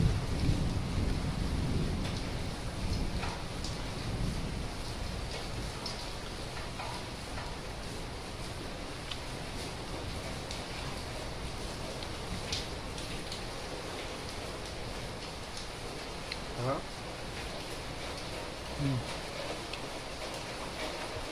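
Heavy rain hisses in a constant, dense wash, with faint distant rumbles of thunder rolling underneath.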